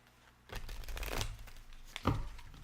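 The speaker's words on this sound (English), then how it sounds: "I'll just get to shuffling and see what they say." A deck of cards is shuffled up close, giving a brief crisp riffle and flutter followed by a sharp snap as the cards settle.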